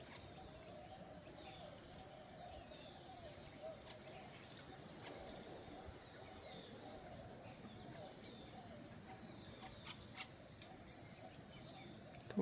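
Faint, scattered bird calls chirp now and then over a soft outdoor background hiss, distant and irregular.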